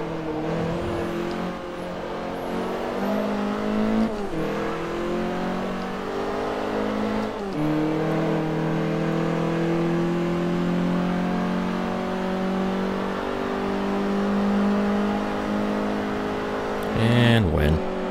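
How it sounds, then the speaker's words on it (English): Race car engines in Forza Motorsport 3 rise and shift through gears in a long continuous whine, with a brief glitchy burst near the end; game engine sound plays throughout at steady volume, with speech likely mixed in. "I think I had a, engine sound glitch there right at the last second"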